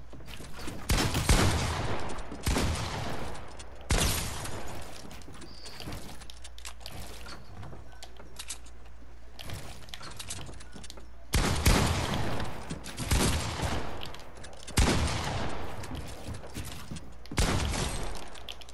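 Gunfire in the video game Fortnite, loud bursts of rapid shots coming in several clusters with short pauses between them, close and dominant throughout.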